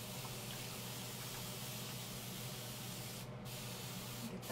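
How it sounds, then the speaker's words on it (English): A spray bottle spritzes paint onto canvas during a floral finger-painting project, giving two short, sharp hissing bursts near the end, close by over a steady low room hum. "I'm gonna spritz it."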